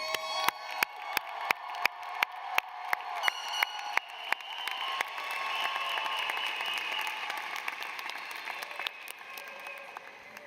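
Graduation ceremony crowd applauding, a steady wash of clapping and cheering in a large venue, with a few sharp isolated claps at the start before the applause swells and holds.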